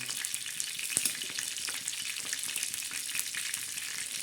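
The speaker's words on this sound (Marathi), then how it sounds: "तो तडका बसून द्यायचा कढीपत्त्याला" Curry leaves sizzling in tempering oil in a pan, with a dense continuous crackle up close, one sharp knock near the start and faint stirring underneath.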